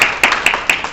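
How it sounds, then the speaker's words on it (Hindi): A few distinct hand claps at a welcome gathering for the opening of a women's bathing facility at a ghat, four sharp loud claps spaced roughly a quarter second apart, sounding alone without talk. "कम से कम तालियों से स्वागत करना ही चाहिए।"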